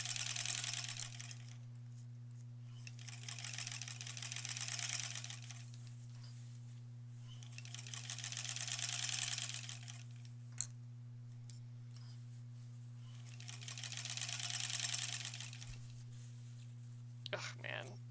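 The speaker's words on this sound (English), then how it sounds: "seems to be sewing perfectly fine" A sewing machine stitches quilt blocks in three or four bursts of rapid, close mechanical chatter separated by pauses, over a steady low electrical hum, with a couple of sharp clicks near the end.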